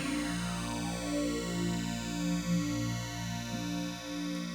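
Layered synthesizers, a Synclavier tone with an Oberheim SEM slow sweeping filter on top, sustained harmonic drone with a gradual filter sweep and a steady pulsing tick, moderately quiet and alone.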